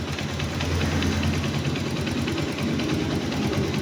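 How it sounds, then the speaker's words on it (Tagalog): A faulty motorcycle engine idles up close with a steady, rapid mechanical clatter, running continuously without any voices. "pag lumalagapak yung motor ninyo"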